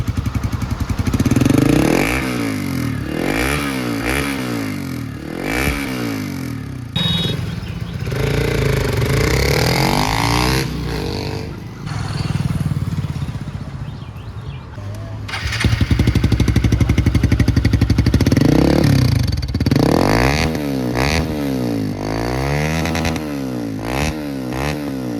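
A Hero Xpulse 4V motorcycle fitted with a Motowing full-system exhaust runs close by, its engine revved repeatedly with throaty rising and falling bursts between a rumbling idle, loud throughout.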